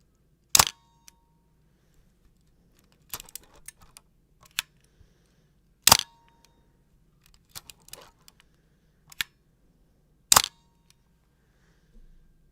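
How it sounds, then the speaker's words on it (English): Three sharp mechanical shutter clicks from a Nikon F1 film camera, spaced a few seconds apart, each with a brief metallic ring, followed by quieter handling clatter in a quiet room. "I was trying to play the shutter sound"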